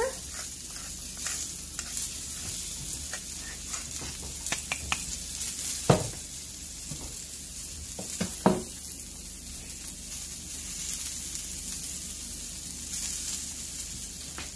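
Chicken sizzling in a pan over medium-low heat gives a steady, moderate hiss, with occasional clicks and louder utensil knocks against the pan.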